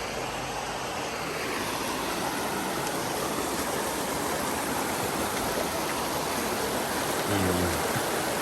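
Steady broadband roar of Sagpulan Falls in Hinaguan pouring into a river during rainy, cool weather, a constant close wash of rushing water with no pauses and no voices.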